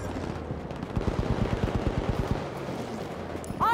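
Rapid bursts of machine gun fire in the online shooter Battlefield V, a dense rattling volley of close shots lasting a couple of seconds before fading into battle ambience.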